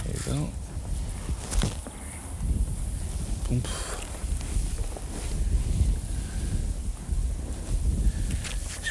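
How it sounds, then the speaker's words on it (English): Wind gusts buffet a microphone by the River Guden in Denmark during feeder fishing, producing rough low rumbles that swell and ease, with a few brief rustles and handling knocks mixed in. "Wind's picking up a bit now."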